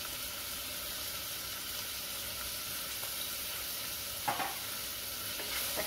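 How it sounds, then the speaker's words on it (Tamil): Chopped tomatoes and salt sauté with softened onions in a pan for a Tamil mochai kottai kuzhambu, giving a steady close sizzle and hiss with a brief stir or scrape partway through. "தக்காளி நல்லா வதங்கட்டும்."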